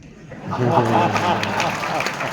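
Applause from a poetry event audience swells quickly and holds as a steady clatter of clapping, with a faint voice briefly underneath near the start.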